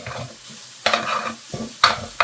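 Yam flower thoran with egg stirred in a pan, Kerala style: a few quick, close scraping strokes with a soft sizzle between them.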